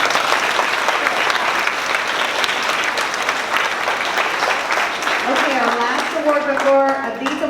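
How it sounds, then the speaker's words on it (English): A crowd of parents and guests applauds at an elementary school fifth-grade celebration, loud continuous clapping that carries on throughout, with a voice starting to speak over it near the end. "One more round of applause."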